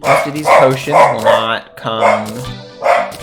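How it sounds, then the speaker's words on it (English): A pet dog barks repeatedly and close, five or six loud rhythmic barks with short gaps, while someone talks over them during a Terraria game session. "Sorry about my dog there."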